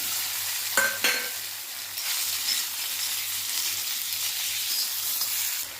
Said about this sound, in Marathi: त्या कढईमध्ये अर्धा चमचा तेल टाकून घ्यायचं आपल्याला फ्राय करायचं आहे